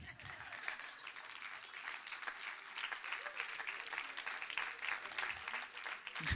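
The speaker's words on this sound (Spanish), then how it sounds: "Dele otro aplauso al Señor." A crowd at a church service applauds steadily throughout, a dense continuous patter of many hands clapping with some voices mixed in.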